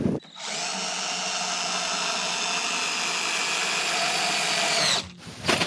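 A cordless screwdriver drives screws during repairs on a raft, its motor whining in one sustained, even run of several seconds before stopping abruptly, close and fairly loud.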